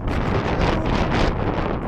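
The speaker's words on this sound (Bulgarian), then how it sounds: "Времето е чудесно, ветровито." Strong winter wind roars steadily and close into the microphone, a dense buffeting rush with no pauses, during a descent of Musala, Bulgaria's highest mountain at 2925 m.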